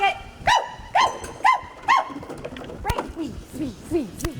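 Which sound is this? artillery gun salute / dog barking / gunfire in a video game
dog barking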